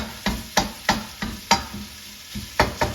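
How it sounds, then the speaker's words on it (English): Italian sausage sizzles in a pan while a spatula stirs and breaks it up, with a series of close, rhythmic scraping strokes about every half second over the steady frying hiss. "It's time to stir this. You can see it's starting to caramelize as I stir it."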